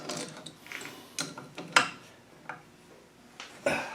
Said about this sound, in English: we're getting to a point where we tighten this down till it won't tighten anymore